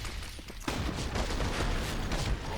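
Rapid gunfire from a competitive shooter game match, a dense burst of overlapping shots that starts abruptly and stays loud and continuous to the end.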